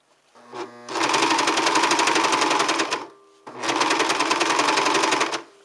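A serger stitches and trims fabric, its gold thread in the lower looper, in two long, steady motor runs, a loud rapid chatter of needle and knife broken by a short pause, close by and alone.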